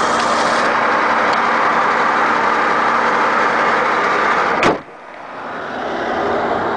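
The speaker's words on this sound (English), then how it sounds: "You hear the motor sounds good." A Pontiac woody's engine runs at a steady idle, a close, even rumble that continues for several seconds, then cuts off with a sharp thump before a quieter background returns.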